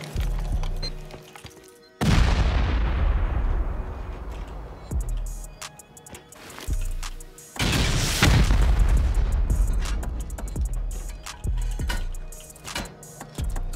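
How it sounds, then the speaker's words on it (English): C4 charges blowing open a vending machine in a survival shooter: two big booming blasts, each rolling off into a long rumbling tail, with clanks and ticking debris between them and no talking. "Still gonna have to end up C4ing one of these vending machines."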